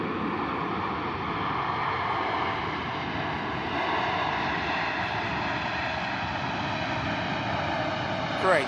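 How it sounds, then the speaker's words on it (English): A Saudi Boeing 787 Dreamliner arriving from Jeddah touches down at Manchester Airport, a steady broad roar of jet engines and rushing air holding level throughout, moderately distant, with a faint voice over it. "Great touchdown from the Saudi Dreamliner. In from Jeddah"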